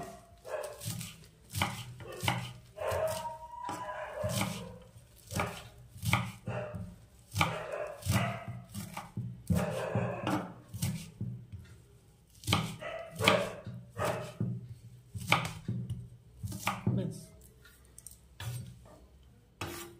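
A knife roughly chops bathua greens (saag) on a board in a home kitchen, a steady run of close, loud, uneven thwacks over about twenty seconds with no talk.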